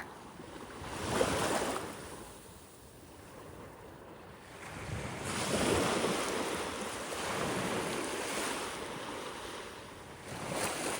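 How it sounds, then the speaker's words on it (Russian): Sea waves breaking on a beach at a resort in Muscat Bay, Oman, heard faintly as slow swells of surf that build and recede several times, with some wind noise and no speech. "Охлаждающее море."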